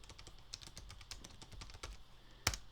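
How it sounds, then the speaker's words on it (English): A computer keyboard is typed on in a steady, close run of soft keystrokes, ending with one sharper, louder key press. "I'm going to type it out here."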